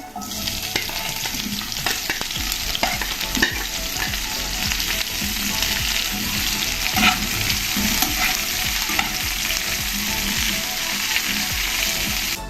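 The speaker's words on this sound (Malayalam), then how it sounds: "നമുക്ക് ഇതിലേക്ക് സവള ചേർത്ത് കൊടുക്കാം" Chopped onions fry in hot oil with ginger, garlic and green chillies for a squid roast, giving a steady, loud sizzle over about twelve seconds, with frequent scraping and stirring clicks from a spoon in the pan.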